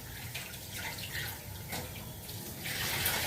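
Rice being rinsed in water in a home kitchen while cooking Bihari-style greens and rice, a steady close swishing and trickling of water with light splashes throughout, getting a bit brighter near the end.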